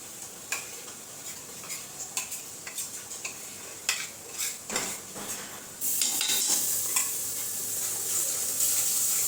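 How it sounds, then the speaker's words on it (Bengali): Cumin, coriander and chili spice paste with onion and ginger-garlic paste stirred and frying in a pan, with a spoon scraping and clinking in an irregular rhythm, then a steady loud sizzle takes over in the second half. "আমি মশলাটা একটু কষিয়ে নেই ভালো করে।"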